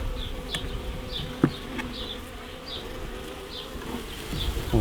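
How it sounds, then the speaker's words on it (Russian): Honey bees buzz steadily in and around a hive during work on nucleus colonies, a dense continuous hum with individual bees zipping past close by and occasional faint knocks, no voices. "И каким-то образом надо туда будет пчел струсить, чтобы падали сразу туда"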